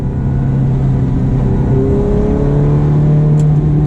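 A Ferrari F430 in sport mode pulling hard from inside the cabin, a steady loud engine drone with pitch climbing gradually as it accelerates, no talking over it.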